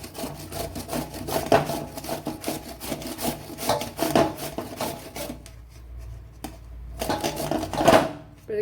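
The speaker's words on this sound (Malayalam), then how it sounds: "ഒരു ഗ്രേറ്റർ വെച്ച് ഇതിനെ ഒന്ന് ഗ്രേറ്റ് ചെയ്തെടുക്കണം." Raw sweet potato grated by hand on a kitchen grater: repeated rough scraping strokes in a steady rhythm, close and fairly loud, with a short pause before the strokes resume.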